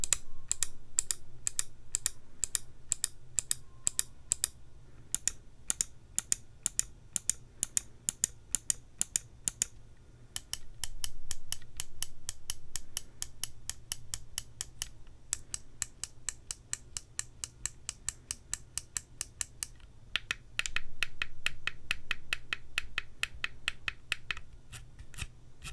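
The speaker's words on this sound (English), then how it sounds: "The clicks on the Haste are among some of the best I've ever felt when using a mouse." Button clicks from a HyperX Pulsefire Haste mouse come as long, fast runs of sharp, crisp taps that are close and distinct. Short pauses separate the bursts, and no one speaks.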